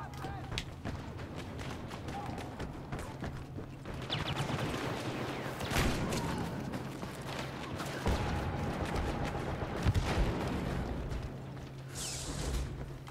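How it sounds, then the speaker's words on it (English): Blaster fire crackles in bursts during a Star Wars Battlefront (2015) battle at an Imperial hangar, sharp shots scattered across a busy mix of game effects and a player talking. "Who's shooting me?"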